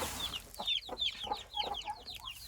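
A hen clucks close by in a henhouse while laying an egg, giving a rapid run of repeated short, bright clucks and cackles that rise and fall with no other sound around them.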